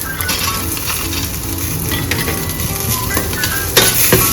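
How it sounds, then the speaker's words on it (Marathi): Peanuts and dried chilies roasting in a pan for peanut chutney give a steady, close sizzling and crackling that runs throughout, with scraping stirs and a few light metallic clinks near the end. "याला थोडं भाजून घ्यायचं आहे, थोडंसं, जास्त नाही, कारण आपले शेंगदाणे ऑलरेडी भाजलेले आहेत"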